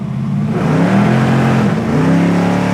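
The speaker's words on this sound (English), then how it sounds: "it will definitely go up as soon as we hit the gas here" A 1971 Chevelle SS engine revving hard while accelerating, loud and close, with rising and falling pitch sweeps as the throttle is worked, no talk over it.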